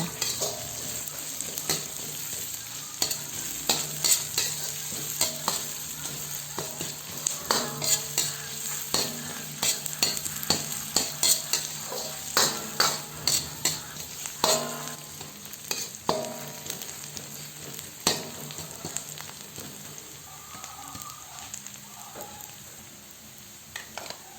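Sliced onion fries in a pan with a steady, close sizzle, broken by frequent scraping stirs and soft utensil knocks throughout.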